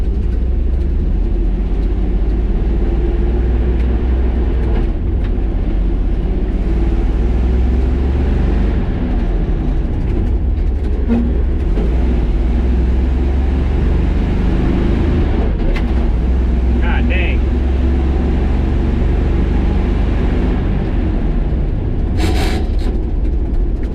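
Old farm truck engine rumbling steadily at close range while the driver splits gears in low range, a continuous heavy low drone with brief shifts in tone and no talk over it.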